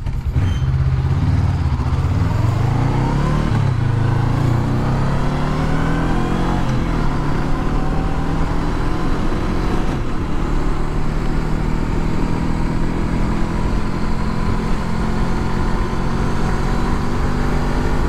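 A Honda CB500X motorcycle ridden fully loaded with a pillion on a long-distance trip, its engine pulling steadily as the pitch climbs through acceleration, loud and continuous under constant wind rush, with no talking.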